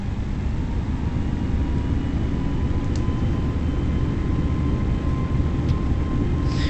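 Jet engines of an Airbus A320 in Microsoft Flight Simulator throttle up for takeoff, producing a steady, loud, broadband roar with low rumble that holds evenly throughout, without any speech.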